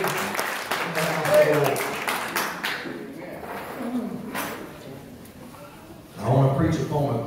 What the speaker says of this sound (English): Let's give the Lord some big hand clap of praise before we see him.